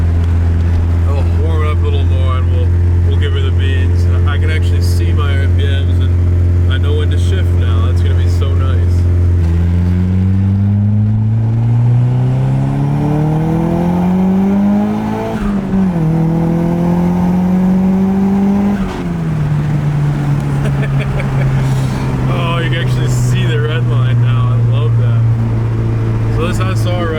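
A Nissan 240SX with a swapped SR20 engine idles steadily up close, then revs in rising and falling sweeps before settling back to a higher idle, with someone talking over it.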